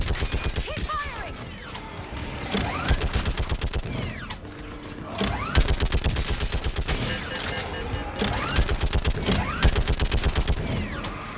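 Sustained automatic gunfire in the Mass Effect 3 battle on Thessia: dense, rapid bursts of shots with clanking mechanical hits and crashes, loud and continuous throughout with brief lulls, alongside faint voices.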